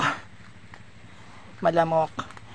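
Dogs barking at a home among many plants, a short cluster of a few close, loud barks heard after someone speaks.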